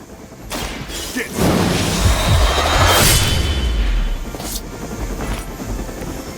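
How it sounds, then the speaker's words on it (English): Helicopter going down under fire in the Marvel's Midnight Suns video game: a loud burst of crashing, booming and mechanical clatter swells through the middle and then fades into a lingering rumble. "You've grounded the helicopter."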